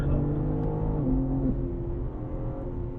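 A BMW M car's engine pulls hard under throttle up a hill at Sonoma Raceway, a steady loud drone with a rising pitch that runs unbroken, close-up from inside the car, with no talk.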